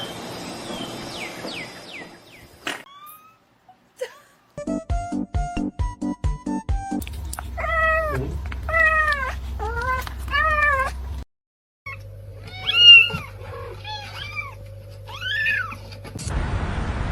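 Several cats give repeated rising meows in short bursts, some drawn-out and whiny, mixed with thumps and brief pauses, close to the recorder.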